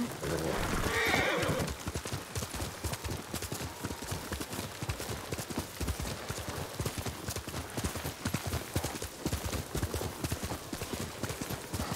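Horse from Ghost of Tsushima neighs loudly at the start, then hooves clip-clop in a steady fast gallop rhythm throughout, with a faint voice talking beneath.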